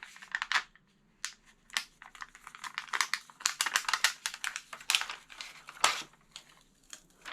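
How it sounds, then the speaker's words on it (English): Quick, irregular crackling and papery tearing as sticker remnants are pulled off a sticker backing, many short close peels in bursts with small pauses between. "I'm just going to pull off all of those sticker remnants"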